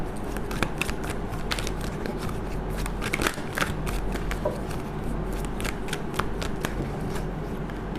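Tarot cards are shuffled continuously and close by, giving a dense, steady riffling patter with sharp clicks of cards slapping together throughout.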